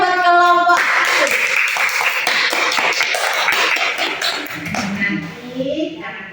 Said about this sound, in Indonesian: Beri aplaus yang banyak buat kelompok 1